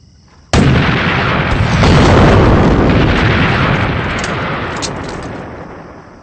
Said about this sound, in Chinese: 好了，别乱飞炮弹了